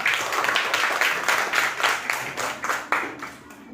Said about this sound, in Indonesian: Bagus, tepuk tangan untuk Zafran.